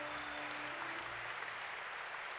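A convention panel audience applauds a BB-8 droid demonstration at Star Wars Celebration Europe, a dense, steady wash of clapping throughout the short stretch, with no clear talking.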